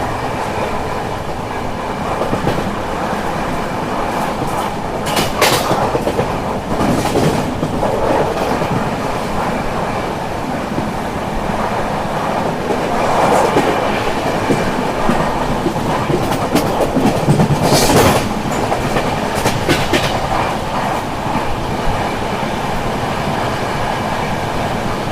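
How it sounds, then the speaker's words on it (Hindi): The Goa Express running on rails in rain on the Goa to Delhi route, heard from inside as a loud continuous rumble with repeated clickety-clack wheel beats and occasional sharper rattles, steady for the whole stretch. "ये ट्रेन 1 घंटे बिफोर चल रही है"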